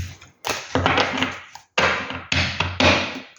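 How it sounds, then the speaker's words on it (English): Tarot cards being shuffled by hand, a series of crisp riffling bursts and taps in quick clusters with short pauses between, close and clear with no talking. "keep shuffling"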